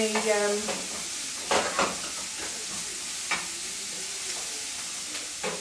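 Onions searing in a pan alongside 800 grams of quality beef, giving a steady broad sizzle with a few louder stirring scrapes; a voice speaks briefly at the start.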